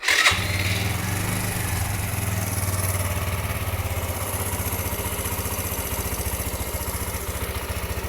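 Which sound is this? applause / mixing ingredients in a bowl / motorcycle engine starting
motorcycle engine starting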